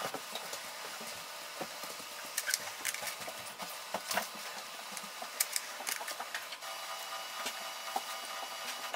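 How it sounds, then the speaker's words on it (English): An HP DeskJet 4121e printer scans documents, giving a low mechanical whir punctuated by irregular clicks, ticks and small clunks from the feeder and scan head, fairly quiet and with no talking. "Now click on the scan icon and it will start the scanning."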